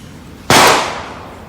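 A single sharp gunshot from a bullet-effect shooting test, loud and close, with an abrupt crack that decays over about half a second into the background.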